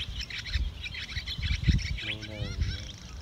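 A flock of swallows calls at a roost, a busy mix of high chirps and twittering with some lower honking notes, fairly close and loud, with no talking.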